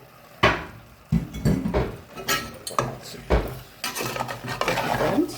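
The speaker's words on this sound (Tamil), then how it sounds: "நல்லா அப்படி கிளறி விடணும்." Chicken being stirred in a cooking pot, with a run of irregular metallic scrapes and clanks from a spoon against the pot, close and fairly loud, and no voices.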